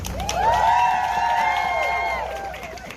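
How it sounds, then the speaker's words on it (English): A crowd at an event honoring Palestinian mothers raises sustained voiced cheering and whooping that swells and fades over a few seconds, with faint clapping underneath. "Give her a round of applause."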